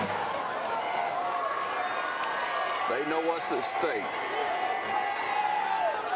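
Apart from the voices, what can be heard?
crowd at a high school football game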